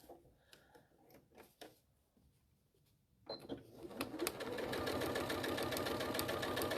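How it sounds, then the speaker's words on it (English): Sewing machine stitching down the middle of crazy patchwork fabric, a few faint clicks of handling first, then the motor starts and runs in a close, steady rapid clatter to the end. "You can just sew down the middle of that one."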